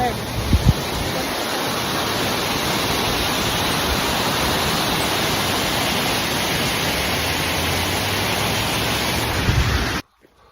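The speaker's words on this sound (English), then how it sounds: "Look at the waterfall." A waterfall on the Appalachian Trail approach to Springer gives off a steady, dense roar of rushing water that fills the scene loudly and evenly, with brief muffled bumps near the start and end before it cuts off.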